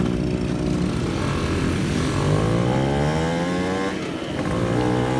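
A Yamaha F1ZR two-stroke motorcycle engine runs steadily after a carburetor adjustment, with a continuous close buzzing idle whose pitch rises and falls slightly as the throttle varies, and no talking.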